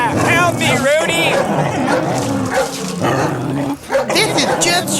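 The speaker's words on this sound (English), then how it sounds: "That sounds like dogs." Dogs bark, yip and whimper close by in a cartoon scene, mixed with voices and busy background noise throughout.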